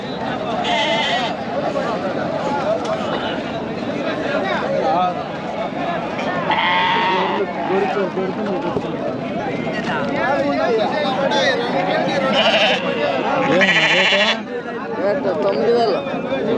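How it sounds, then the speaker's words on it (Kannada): Sheep bleat repeatedly amid a busy crowd on a Sunday at the Chintamani sheep market, their calls rising over steady chatter and murmuring voices. "ಇವತ್ತು ಸಂಡೇ ಚಿಂತಾಮಣಿ ಕುರಿ ಸಂತೆಗೆ ಬಂದಿದ್ದೀನಿ"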